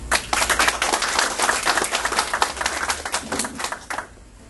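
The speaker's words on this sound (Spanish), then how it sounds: "Un fuerte aplauso para la señora Rosa." Applause at a press conference for a new national indoor football project in Trujillo, a room of people clapping briskly and fairly close, then tapering off and stopping near the end.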